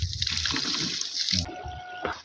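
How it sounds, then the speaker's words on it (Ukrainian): An electric sprayer feeds water into drip irrigation in a watermelon field, giving a rushing flow of water that gives way to a thin, steady motor whine, close by and without speech. "Включаємо на мінімальний електрооприскувач на мінімальну подачу води"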